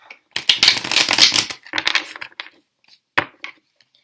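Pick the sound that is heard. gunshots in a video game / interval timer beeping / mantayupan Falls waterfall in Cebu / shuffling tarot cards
shuffling tarot cards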